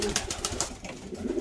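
Soft racing pigeon cooing, a few low burbling calls close by, fairly quiet with a faint wing flutter or rustle between them.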